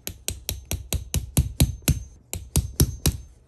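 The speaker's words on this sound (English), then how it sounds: "So I'm just sticking it right here and then hammering the top of that." A hammer repeatedly striking a tool set against a stubborn bearing on a Traxxas X-Maxx 8S RC truck, about a dozen sharp metallic knocks at a steady, fairly quick rhythm with a short pause in the middle, loud and close.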